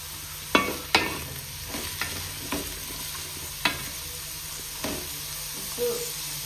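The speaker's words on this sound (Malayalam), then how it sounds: "സവാളയും ചെറിയ ഉള്ളിയും കൂടെ നല്ലപോലെ ഒന്ന് വസങ്ങി നല്ലതുപോലെ ആവണം" Onions and shallots saute in a pan for chicken biriyani, a steady sizzle broken by several sharp scraping stirs of a spoon against the pan at irregular intervals.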